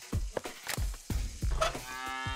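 A cartoonish cow in the PC adventure game Deponia moos several times in quick succession, close and clear, with short lowing calls ending in a longer drawn-out moo.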